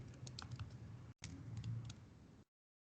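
Rapid clicking keystrokes on a computer keyboard while writing code in Visual Studio 2019, steady and close, with a brief pause midway before the typing resumes.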